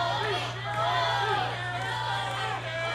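A wrestling arena crowd at an OVW show roars and cheers for Tony Gunn in a dense, sustained wall of noise, with a commentator's voice running over it throughout.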